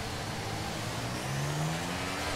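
F1 cars in F1 23 accelerate off the grid at a Bahrain race start, a steady dense engine roar with a rising tone as a car pulls away, close and alone.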